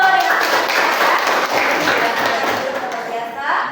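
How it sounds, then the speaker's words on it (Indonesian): Audience applause breaks out in a classroom or training session, a dense wash of clapping from a group that holds steady for several seconds, with some voices mixed in. "Tepuk tangan dulu."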